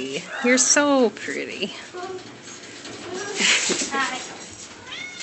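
Kittens from one litter meowing, with several high, rising cries scattered through the stretch, close by and mixed with a person's soft talk.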